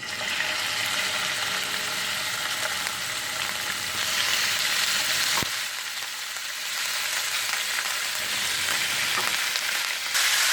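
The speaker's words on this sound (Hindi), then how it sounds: "तो अब हम इसको एज इट इज डालते हैं पैन में" Vinegar-soaked chicken fries in a pan with a broad, steady hiss and sizzle. The sizzle dips in intensity partway through, then carries on close and loud without any talking.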